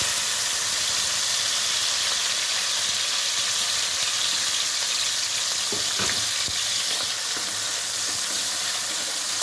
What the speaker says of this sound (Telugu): ఆయిల్లో ఫ్రై చేసుకోవాలండి ఎండు రొయ్యలు.